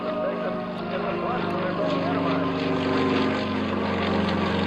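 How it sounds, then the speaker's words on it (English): A steady aircraft engine drone with propeller hum during a whip stall holds at a constant level throughout, loud and continuous with no pauses. "as that nose falls down to the horizon, that's called the whip stall"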